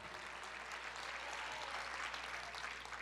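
A church congregation applauds at a worship service, a faint, even wash of many hands clapping at a distance with no voices over it.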